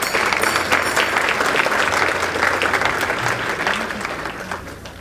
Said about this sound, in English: Let's give them another applause.